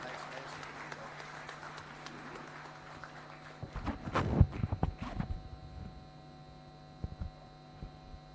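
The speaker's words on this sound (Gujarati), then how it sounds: "તાળીઓના ગડગડાટથી આપણે સૌ એમને વધાવીએ" A short burst of applause from a gathered crowd rises briefly in the middle, over a steady electrical hum and some background voices.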